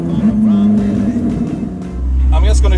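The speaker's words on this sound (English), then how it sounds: "That sound, it's just so emotional, just directly connected to the engine." A loud Koenigsegg Jesko hypercar engine roars and revs steadily, with a deep rumbling swell building toward the end, while a voice talks over it.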